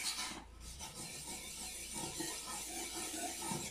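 A dull kitchen knife is drawn from tip onward across a wetted sharpening stone in circular strokes, giving a quiet, continuous gritty scraping with soft repeated swells of rubbing.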